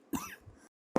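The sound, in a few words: cough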